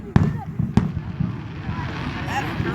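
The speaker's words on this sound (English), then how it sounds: "Fireworks shows are amazing." Fireworks at a fireworks show burst with two sharp cracks early on, followed by a continuous crackling rumble, with voices talking in the background.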